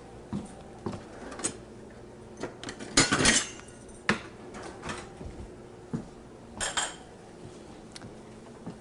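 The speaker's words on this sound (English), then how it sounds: "let me grab another knife" Metal kitchen utensils clink and clatter as a knife is pulled from among them, scattered knocks and rattles with one louder jangling clash midway, close and moderately loud.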